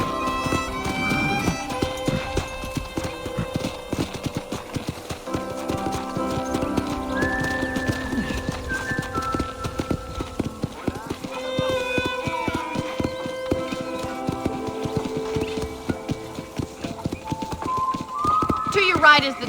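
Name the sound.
horse riding hoofbeats in video game Red Dead Redemption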